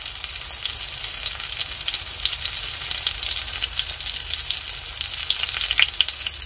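An eggplant omelette, tortang talong, fries in a pan with a steady, close hiss and crackle of oil, spitting sharper pops now and then, with no voices.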